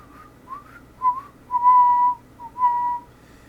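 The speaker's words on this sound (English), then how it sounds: "All whistle last 4 bars of Johnny Comes Marching Home." Whistling carries the closing bars of the marching tune "Johnny Comes Marching Home" in a stage performance, a few short phrases followed by longer held notes, clear and moderately loud over a quiet room with no talk.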